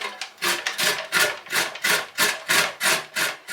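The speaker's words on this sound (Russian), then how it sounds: "Натираем морковь на крупной терке." Carrot is grated on a coarse grater, a steady run of about eleven rhythmic rasping strokes, close and clear with no talk.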